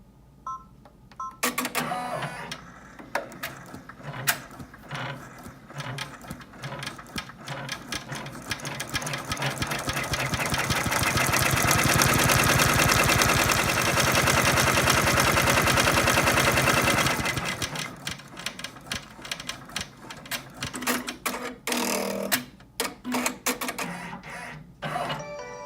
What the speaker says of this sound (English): With your hoop back on the machine, having the vinyl taped to the bottom of the stabilizer in the hoop, stitch out the last step of the stitch map